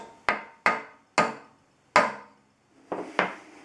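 Six sharp hammer taps ring out one at a time with brief decays, knocking a loose part on a router build back into place, close and fairly quiet with no voices.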